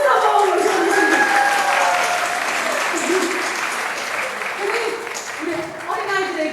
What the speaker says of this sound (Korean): 한번 박수를 한번 모셔주시면